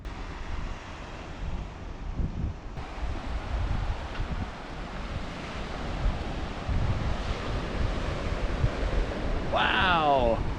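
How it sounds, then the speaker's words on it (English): Ocean waves at Praia D'El Rey beach on Portugal's Silver Coast in autumn: a steady, rushing wash of surf mixed with buffeting wind noise on the microphone, continuous and fairly quiet. "So this is the beautiful Praia Del Rey beach just in front of the Marriott Resort"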